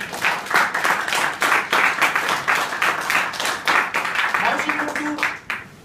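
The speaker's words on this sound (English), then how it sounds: "I would request everyone to applause for her great achievement." Dense applause from an audience, many hands clapping in steady bursts throughout, with faint voices mixed in.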